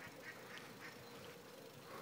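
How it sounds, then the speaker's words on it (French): Faint, distant ducks quack repeatedly at an irregular pace over a steady background hiss at a green outdoor site with a barbecue. "On entend même les canards avec le barbecue."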